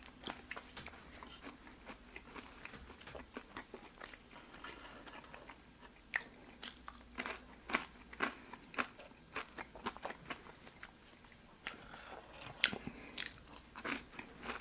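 Crunchy bites and chewing of fresh, deep-fried Burger King fries, close and sharp, with irregular crisp crunches repeating over a quiet background and no talking.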